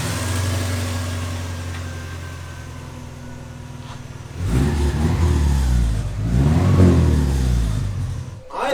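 A Subaru rally car engine idles with a steady low drone, then revs hard in repeated surges through a small inch-and-a-quarter exhaust, loud and close.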